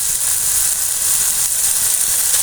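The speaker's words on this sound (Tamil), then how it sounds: "இப்போ அந்த தேங்காய் சில்லையும் போட்டு வதக்கிக்குவோம் இப்போ வதங்கிட்டு இருக்கு" Coconut pieces sauté in a pan for pirandai chutney, a loud, close, continuous sizzle and hiss with faint stirring and no voices.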